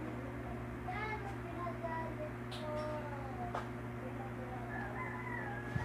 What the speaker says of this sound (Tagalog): May manok talaga sa labas namin